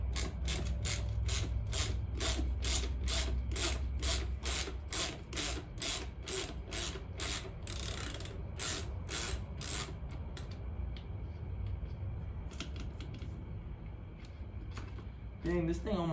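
Ratchet wrench undoing a nut on a crash-damaged vehicle part, a run of sharp evenly spaced clicks close up, then fading to a quieter stretch with a few rattling clicks at the end.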